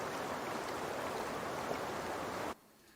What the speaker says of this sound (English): just use the river ambience, place it here, and then just place it at these rivers